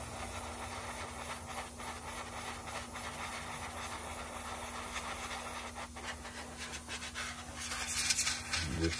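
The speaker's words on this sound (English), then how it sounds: "I'm going to dry it off with the airbrush. Put the air on low." Low-pressure air hisses steadily from an airbrush set on low, blown across a freshly painted jumbo rat wake bait fishing lure to dry it, a continuous close hiss that swells slightly louder near the end.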